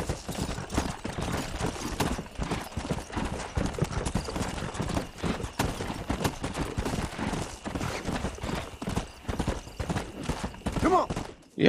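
Rapid hoofbeats of a bolting stallion in Red Dead Redemption pound in a continuous galloping rhythm, loud and close, with sharp bursts of other noise and a brief whinny near the end.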